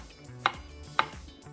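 Knife chopping strawberries into small pieces on a board, two crisp isolated chops about half a second apart over quiet room hum, no talking.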